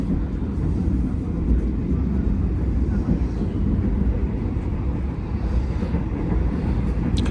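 Continuous low rumble of the Gajayana train passing Lempuyangan station, heard on board, loud and steady throughout, with no clear voices.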